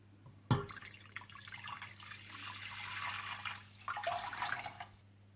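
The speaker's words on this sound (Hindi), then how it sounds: "सबसे पहले आप एक बर्तन में 5 कप पानी डाल लें।" Five cups of water pouring into a cooking pot, a steady splashing stream that begins abruptly, swells and wavers for about four seconds, then stops, with a low hum underneath.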